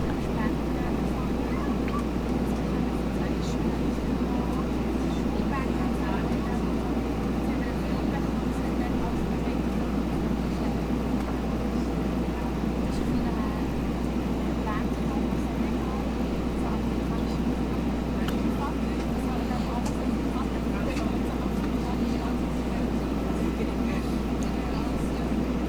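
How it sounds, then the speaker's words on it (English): A Bell 412 helicopter in X-Plane 11 drones steadily and loudly throughout, a dense continuous rotor and engine roar with a deep low hum, under occasional talk. "So the helicopter is operating optimal limits, as they say."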